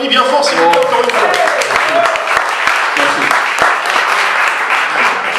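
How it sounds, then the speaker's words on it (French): Audience applause for a former OGC Nice football star at an interview event: dense, steady clapping from a crowd throughout, with a voice talking over the first couple of seconds. "On l'applaudit bien fort, s'il vous plaît, encore une fois."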